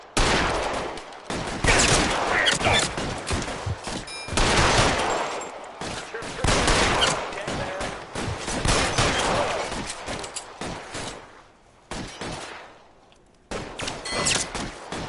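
Heavy gunfire during a shootout in L.A. Noire, loud volleys of overlapping shots in long bursts with brief lulls, mixed with shouted voices between the bursts.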